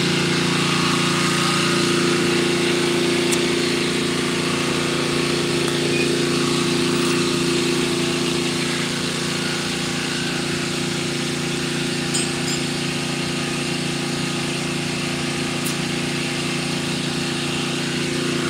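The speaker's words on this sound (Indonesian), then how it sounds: "ini agak-agak berisik ya karena suara mesinnya emang cukup kenceng" Well-drilling machine engine running steadily and loudly for the whole stretch, a constant droning hum with a strong low tone and no pauses or voices.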